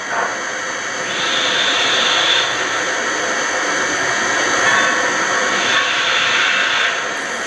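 An O-scale model cab forward locomotive's sound system, playing from a speaker in the tender, starts up with a constant hissing hum and a whine that swells in waves, fairly loud and close, with no talking.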